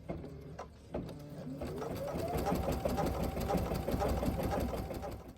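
A sewing machine runs steadily, stitching a felt bat jar topper around the ears and wings. It starts with a few separate clicks and then settles into a continuous close, buzzing whir that holds for several seconds.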